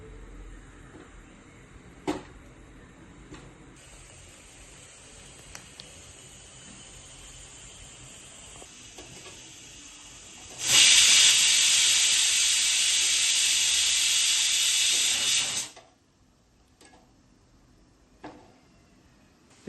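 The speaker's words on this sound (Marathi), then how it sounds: "तर आपण आता हे असे कांदे गॅस फ्लेमवर भाजून घ्यायचे" Onions slit with a knife and roasted directly over a gas stove flame for a spicy mutton curry give off a loud steady hiss and sizzle that rises suddenly, holds for about five seconds, then cuts off, framed by quieter kitchen background with faint clicks.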